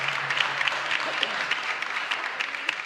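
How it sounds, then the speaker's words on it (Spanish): Applause for young people at a Mass in a chapel, a steady wash of many hands clapping together from a congregation, fairly even and moderately distant for a few seconds. "un fuerte aplauso para los jóvenes"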